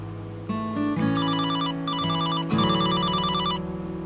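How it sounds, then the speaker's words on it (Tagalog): A cellphone rings loudly and close by in a repeating electronic melody of bright tones, pausing briefly between bursts and keeping on for several seconds with no talk over it. "Cellphone ba yun ni Mahal?"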